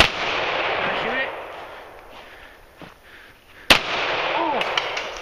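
A Taurus 1911 pistol fires a single sharp report, loud and close, standing out against steady outdoor background noise with faint talk before and after.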